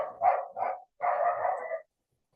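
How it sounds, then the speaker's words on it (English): A dog indoors gives three loud barks, two short ones and then a longer drawn-out one, close to the microphone with silence after. "apologize for the dog in the background"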